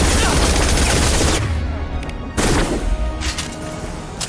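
Rapid submachine gun bursts fire in Mass Effect 2 Legendary Edition, loud and dense with booming impacts for about a second and a half, then a brief lull before another heavy burst and fading echoes.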